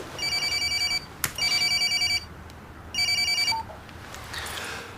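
A landline telephone rings indoors in a household setting, with two long electronic ring bursts separated by a pause, then a third burst that cuts off mid-ring as it is answered, loud and close with no talk.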